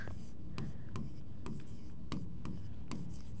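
A pen scratching across paper in quick repeated strokes, each stroke a short dry rasp coming at a steady rhythm, close and fairly quiet with faint room hum beneath.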